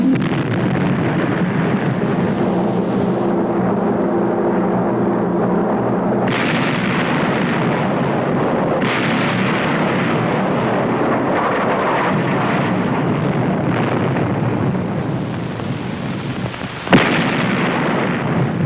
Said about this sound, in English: It's when the guns are firing efficiently,